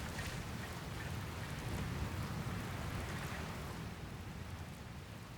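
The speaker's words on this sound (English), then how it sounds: "Looks like there's another storm rolling in." Rain and a thunderstorm in the video game Dragon Quest Builders 2: a steady, dense hiss of rainfall with low rumbling beneath, constant and fairly loud throughout, without voices.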